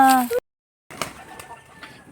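Pigeons and chickens being fed in a yard: a short raised voice calls out, then after a brief silence come faint cooing, soft clucks and a few wing flutters nearby.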